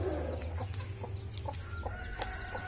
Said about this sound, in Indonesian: Ini ayam-ayam Pamakyu.